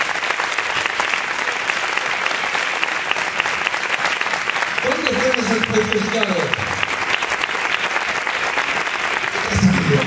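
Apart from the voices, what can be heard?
applause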